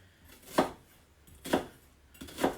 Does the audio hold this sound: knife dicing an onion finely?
yes